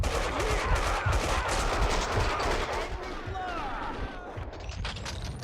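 Gunfire in the video game Max Payne 2: dense, rapid bursts of shots and crashing impacts that sound near and loud, layered over busy game noise.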